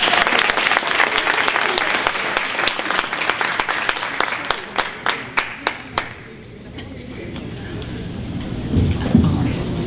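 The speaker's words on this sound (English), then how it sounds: "Please give me a round of applause." Audience applause at a charter schools conference, loud dense clapping that thins into a few separate claps before dying away, followed by quieter room noise and a faint voice.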